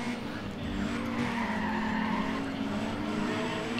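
Tires squeal in a sustained, loud drift over a steady engine roar in the racing game Need for Speed ProStreet, holding for about four seconds without a break.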